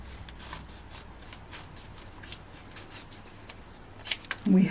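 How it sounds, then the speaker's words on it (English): Scissors cut thin strips of craft paper, a run of soft rhythmic snips close by, ending in a few louder rustles and handling noises. "Let me grab these and we'll cut them down a little thinner"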